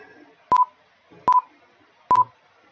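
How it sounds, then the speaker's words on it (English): Three short electronic beeps from a real-time X-ray weld defect inspection system signal detected defects, at an even interval of just under a second, each a brief double-pulsed tone over quiet background hum. "you can hear the sound of the defect when the defect is detected"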